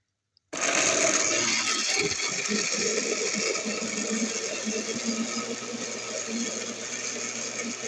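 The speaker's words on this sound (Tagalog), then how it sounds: "Blend natin hanggang madurog yung biscuits at saka yung sugar and eggs." A kitchen blender runs steadily, crushing biscuits with sugar, eggs and a little water for an evaporated-milk leche flan, starting abruptly with a loud, continuous motor whir and grinding rattle that holds for several seconds.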